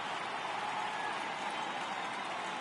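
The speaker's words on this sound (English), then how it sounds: "The crowd is ready to erupt as their guys get set to take the field." A stadium crowd in the video game MLB The Show 18 applauds and cheers at a Pirates vs. Dodgers NL Championship Series game, a steady faint wash of distant crowd noise.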